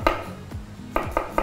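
A knife cuts shallots on a cutting board, giving a few sharp, close taps and knocks spaced irregularly, with a ringing clink from a metal utensil among them.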